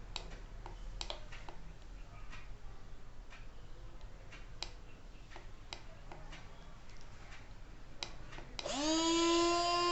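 A Timesoon portable rechargeable battery juice blender switches on near the end, a loud steady motor whine with rising harmonics after a stretch of quiet ticking and clicking handling noises.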